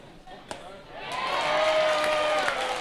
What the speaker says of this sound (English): perhaps a slightly ironic cheer from the crowd